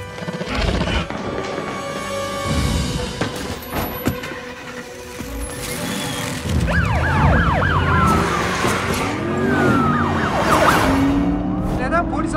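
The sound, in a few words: police car siren in movie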